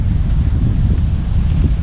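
Strong winter wind on a hike along the Shenandoah buffets steadily and loudly, with a low rumbling gust noise that stays constant for the whole couple of seconds.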